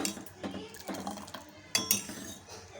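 A spoon stirs sago payasam in a metal pot after hot water is added, making soft scraping swirls and a few sharp clinks against the pot. The sounds are close and fairly quiet.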